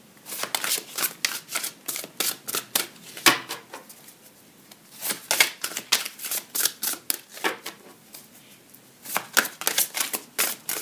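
Fairy tarot cards are shuffled by hand in repeated quick riffling bursts, close and crisp, with short pauses between rounds and no talking.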